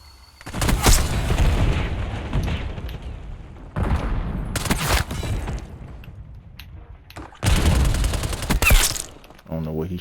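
Heavy bursts of video-game gunfire come in three long volleys of rapid, loud shots, with brief quieter gaps and a voice heard faintly between them.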